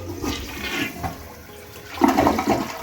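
A toilet flushes with a gush of rushing water that surges, eases, then swells again near the end, loud and close with no talk.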